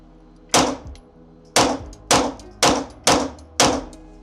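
Six sharp gunshots from a Daniel Defense H9 pistol fired at a target 30 feet away, a lone first report followed by five rapid evenly spaced shots, loud and close.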